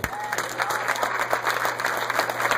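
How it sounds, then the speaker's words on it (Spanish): Congregation applauding at a church service in San Pedro de Macorís, a dense, steady wash of clapping from many hands with a constant low hum underneath, filling the whole stretch without speech. "Y el aplauso a Cristo."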